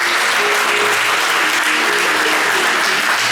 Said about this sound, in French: Acclamez d'abord le Seigneur si vous avez besoin.